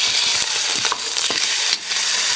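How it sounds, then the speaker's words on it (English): Roast lamb sears and browns in a hot pan, giving a steady loud sizzle with occasional scraping and stirring movements and no talking. "I'm going to do is brown this off all around"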